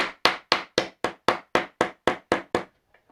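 A small pin being hammered into a painted wooden farmhouse laundry sign, eleven sharp, evenly spaced taps in quick succession, close and loud, then stopping.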